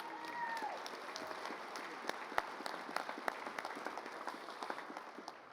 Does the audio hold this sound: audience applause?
yes